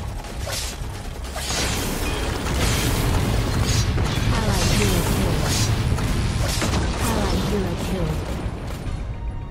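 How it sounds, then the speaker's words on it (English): Explosion of a destroyed enemy turret in the Vainglory mobile battle game, a dense run of booms, pops and mechanical clatter from the game's sound effects, continuous and loud. "Enemy turret destroyed."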